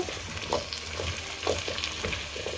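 Cut potatoes tossed into hot oil with frying garlic and ginger give a steady close sizzle, with soft stirring scrapes recurring every half second or so throughout.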